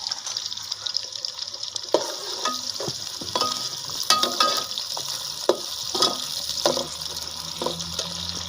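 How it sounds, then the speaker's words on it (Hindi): Onions frying in ghee in a pan, made as the base for an eggplant biryani, give a steady close sizzle. Light stirring scrapes and clinks break in now and then, and no one speaks. "सबसे पहले प्याज को घी में डाल दें"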